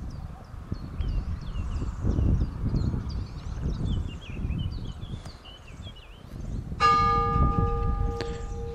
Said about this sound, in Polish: zabił dzwon zegara na godzinę